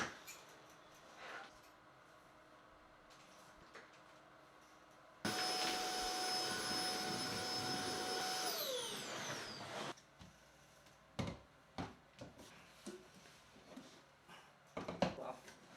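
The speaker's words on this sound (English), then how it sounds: "let's try to vacuum underneath the desk" A vacuum cleaner runs under a desk, a steady loud whine for about five seconds that rises in pitch and then stops, with quieter knocks and handling noises before and after.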